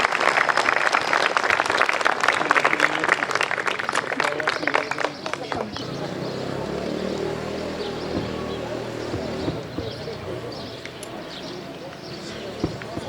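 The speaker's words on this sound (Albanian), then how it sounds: "Një duartrokitje të fortë." An audience claps loudly at a school's 80th anniversary ceremony in Trush; dense applause fills the first five seconds, then gives way to music and talk with a few scattered claps.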